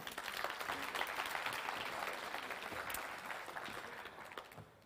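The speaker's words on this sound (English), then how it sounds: "So thank you. Applause for you." Conference audience applause at the SHE Conference in Sofia: a full, even burst of clapping that stays strong for a few seconds and then slowly thins and fades toward the end.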